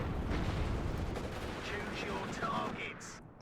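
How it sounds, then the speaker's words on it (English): A .50 cal machine gun fires in the Cold War strategy game Warno, a dense, continuous rattle of rapid shots with heavy rumbling booms underneath, loud for a few seconds before fading out, with a voice talking over it. "That's a 50 cal."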